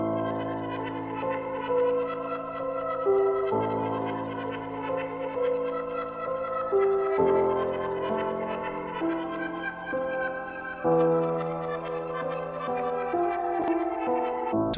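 Synth lead texture run through a narrow bandpass filter with halftime and echo, sustained stepping tones over a dark melody, steady and fairly loud with no voice.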